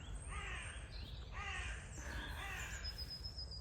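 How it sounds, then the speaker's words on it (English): Several crows cawing from the trees in a wooded setting, harsh repeated calls in uneven bursts over steady background noise, moderately distant, with no talking. "I've got some very vocal, squawky crow friends up in the trees."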